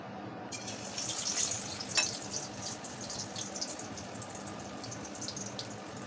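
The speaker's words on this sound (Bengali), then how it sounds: "তেলটাও গরম করতে দিয়ে দিয়েছি, এক এক করে ফ্রাই করে নেব।" Stuffed paneer sizzles steadily in hot oil, a continuous hissing fry with small crackling spikes, heard up close without talk.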